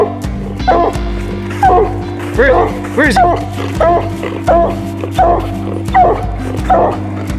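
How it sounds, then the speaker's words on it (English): A redbone coonhound barks and yips repeatedly in a steady rhythm, loud and close, during a coon hunt near a treed animal; someone speaks briefly among the barks. "Redbone coon hound."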